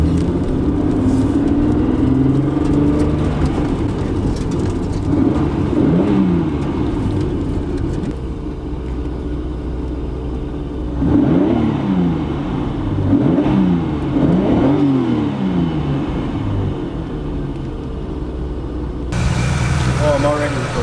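A 2JZ straight-six engine in a right-hand-drive car revs repeatedly in a loud, steady drone, with rising and falling pulls throughout and voices talking faintly over it.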